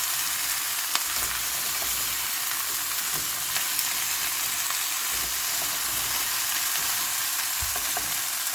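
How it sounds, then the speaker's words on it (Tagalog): Chayote sautéing in a pan, with a steady close sizzle of frying broken by occasional scrapes and stirs, no voices over it. "Medyo higisahan natin yung sayote"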